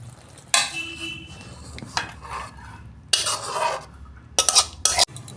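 Spoon stirring kochu loti with shrimp in a hot pan: scraping metal strokes in bursts against the pan, with sizzling frying under them, close and fairly loud, no talking.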